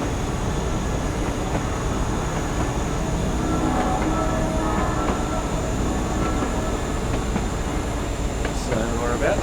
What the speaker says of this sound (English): Now, apart from the horn, the train sounds pretty good.